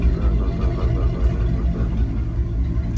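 A 1964 Buick Riviera engine idles with a deep, steady rumble and low throb, close by and continuous throughout.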